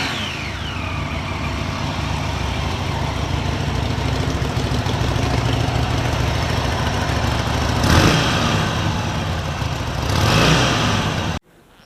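Several parked motorcycles, including a Harley and a Triumph Street Triple, idle together in a steady loud rumble, with two brief rev swells near the end before the sound cuts off abruptly.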